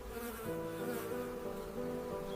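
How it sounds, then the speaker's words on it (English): Insects buzz steadily and close in a high Himalayan meadow during the brief summer, a continuous droning hum with several wingbeat tones layered together and no voices. "insects emerge from the ground"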